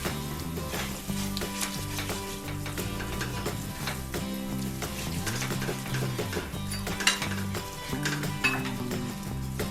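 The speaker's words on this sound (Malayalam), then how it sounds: "തൈര് പെട്ടെന്ന് തന്നെ ചേർത്തോടെ നന്നായിട്ട് ഇളക്കി യോജിപ്പിക്കണേ" Thick curd stirred quickly into egg biryani masala in a pan for Thalassery egg biryani, with continuous sizzling, spoon scraping and clinks of metal on the pan over soft background music.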